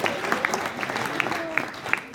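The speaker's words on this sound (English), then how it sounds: "let's give one big round of applause to Debbie Rowe for running the music for us" Brief applause from a conference audience for the person who ran the music at a wealth-management event: a short burst of scattered clapping under continuing background voices.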